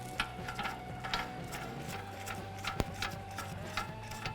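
A ratchet with a 35mm socket turns a wheel bearing lock nut onto a spindle, giving a run of quick, close mechanical clicks with one sharp metallic knock partway through.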